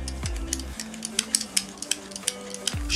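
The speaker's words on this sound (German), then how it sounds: "Dann nehmen wir unseren Parmesan und schneiden uns mit dem Sparschäler ein paar schöne" Parmesan being shaved with a vegetable peeler for a duck breast carpaccio with apple, heard as a quick series of light, crisp scraping strokes at a steady rhythm over a low background hum.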